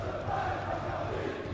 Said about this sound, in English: Listening to that crowd. Look at them go!